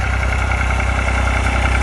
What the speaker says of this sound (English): We got the Massey 35 Deluxe. Oh, it sounds good. That engine sounds great.